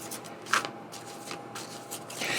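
Tarot cards are shuffled for a reading, a close papery riffle with a few soft flicks and slides, quiet and unaccompanied by speech.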